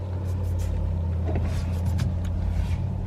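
A Porsche Taycan electric car drives along with a low, steady rumble of motor and road noise. The sound is continuous and moderately quiet, with no voices over it.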